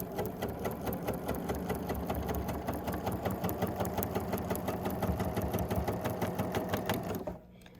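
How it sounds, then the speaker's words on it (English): A Bernina 880 sewing machine with a 1/4 inch foot runs steadily at speed, a fast even mechanical whir of stitching that continues for several seconds and then stops abruptly. "we're using our 57D 1/4 inch foot on the Bernina 880 sewing machine."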